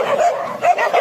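Two dogs bark and yip excitedly in quick bursts, loud and close, with whimpering edges between barks, played back from a recording.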